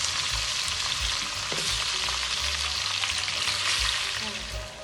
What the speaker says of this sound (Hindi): अब हम शामिल करेंगे चिकन।